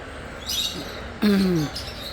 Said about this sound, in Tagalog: mga lovebirds pala oh